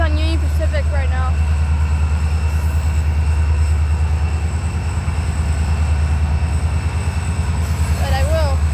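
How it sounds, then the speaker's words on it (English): Union Pacific diesel locomotive rumbling steadily at the FEC Bowden Yard in Jacksonville, a loud, constant low drone throughout, with brief squealing rail sounds at the start and end. "I got all eyes on Union Pacific right now."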